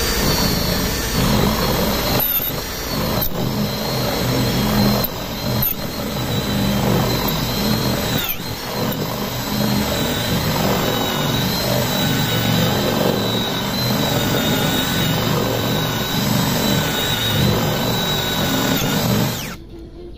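Impact drill with a 10mm bit boring into mahogany wood, a loud continuous motor whine and grinding that runs steadily for about twenty seconds with slight dips in speed.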